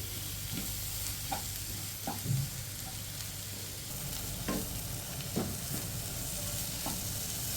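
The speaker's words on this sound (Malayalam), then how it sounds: "നല്ല രീതിക്ക് പച്ചമണം മാറുന്നത് വരെ നല്ലതുപോലെ വഴറ്റിയെടുക്കണം." Spice masala sautés in oil in a pan, a steady close sizzle broken by repeated scraping stirs of a spoon against the metal at uneven intervals.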